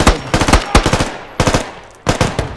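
Gunfire in the video game Squad cracks out in close, sharp bursts: several quick rapid-fire volleys separated by brief pauses, loud and near with no talking.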